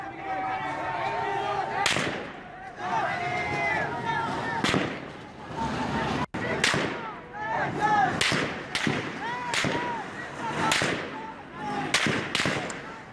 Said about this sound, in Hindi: मशहद में सुरक्षा कर्मी ने आम लोगों पर बरसाई गोलियां